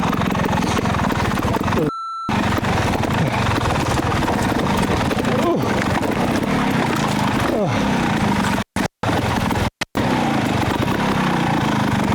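A trials motorcycle's engine revs hard and drones as the rear tyre spins for grip, loud and close with brief dropouts.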